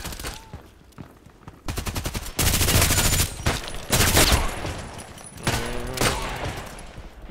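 Bursts of suppressed MP5 SD fire in the shooter game Contract Wars, several rapid strings of muffled shots separated by short pauses, loud and close with game sounds between volleys.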